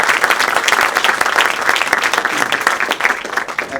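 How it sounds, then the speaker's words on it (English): A crowded hall breaks into loud, dense applause for Gil Messler at a panel discussion on the 1944 Marianas Campaign, with many hands clapping continuously and evenly throughout. "So I just want to give him a round of applause,"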